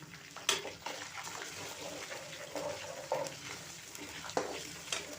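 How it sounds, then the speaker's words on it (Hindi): Cinnamon pieces, cloves and black cardamom fry in oil while a spoon stirs them constantly. The faint, hissing sizzle is broken by a few sharp clinks. "चंद सेकंड तक इनको फ्राई कर लेना है। चम्मच को मुसलसल चलाती रहें"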